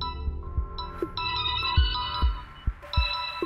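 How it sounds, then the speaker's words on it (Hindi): A telephone rings with a repeating electronic ringtone from a private number, the tone sounding steadily and fairly close across the clip while soft thumps punctuate it underneath. "प्राइवेट नंबर से फोन,"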